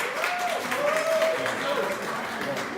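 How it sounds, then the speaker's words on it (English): Applause from a live podcast audience, a steady wash of clapping lasting throughout while a voice speaks over it. "let me give y'all this Ian a round of applause"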